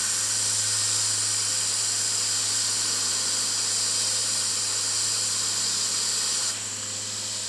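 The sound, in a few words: steam hissing out of a pressure canner vent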